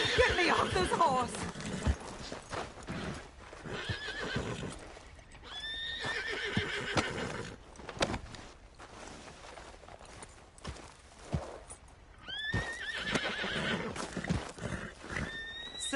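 Several loud neighs and whinnies ring out from horses in the Red Dead Redemption 2 video game, backed by intermittent hoof clip-clops, with some talking mixed in.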